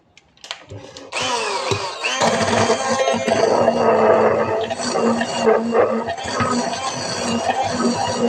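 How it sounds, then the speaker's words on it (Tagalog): Blender whirs steadily as it blends an egg pudding mixture, running loud and close for several seconds after a brief start, with a faint voice near the beginning. "Ngayon, i-blend ko na siya guys."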